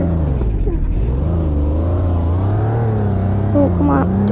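A Toyota Tacoma pickup truck's engine revs off-road in a loud, steady, close drone whose pitch swells and dips, with a brief voice-like sound near the end.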